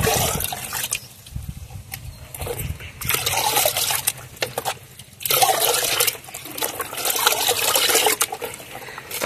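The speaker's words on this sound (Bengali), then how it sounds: "তারপর আমি যেটা দেবো বন্ধুরা সেটা হচ্ছে এই চাল ধোয়া জলটা" Rice-washing water is poured into a liquid cow-dung fertilizer mix, giving a close, continuous splashing trickle that comes in several bursts with brief pauses, and no voices.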